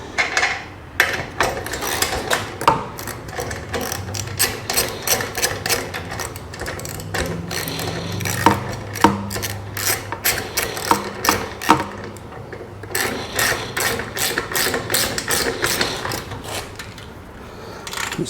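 A wrench ratchets a lock-washered nut tight on a trailer spare tire mount, with rapid metallic clicks in repeated bursts, some clanks between them and short pauses over a moderately loud stretch.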